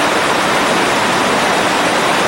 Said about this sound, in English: These are the Hardy Rapids on the Yellowstone River.